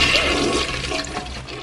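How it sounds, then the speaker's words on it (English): Toilet flushing in BioShock: one sustained rushing gurgle of draining water, close and fairly loud, easing off slightly toward the end with no voices. "Yes, you can flush the toilets."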